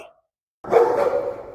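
A Rottweiler barks up close in one loud, sustained burst that follows a brief silence.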